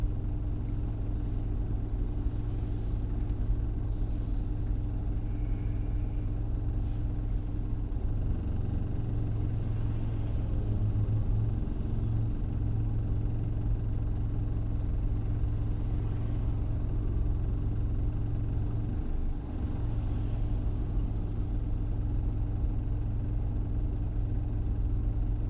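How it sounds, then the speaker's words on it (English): A Mack truck rumbles steadily behind a moving car, a continuous low engine drone filling the cabin with no talk. "Sounds was the Mack truck behind us."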